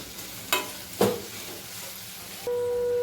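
Chopped onion frying in a pan for a mushroom bhaji, a soft steady sizzle broken by a couple of sharp stirring scrapes, then a continuous hiss with a faint tonal hum.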